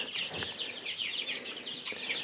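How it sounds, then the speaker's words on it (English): Chickens on a small farm flock of broilers and laying hens cluck and chatter continuously, overlapping calls repeating in quick bursts, close by and with no talk. "I've got 100 broilers and 25 new laying hens."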